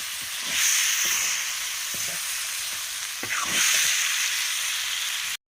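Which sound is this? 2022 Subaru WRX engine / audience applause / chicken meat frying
chicken meat frying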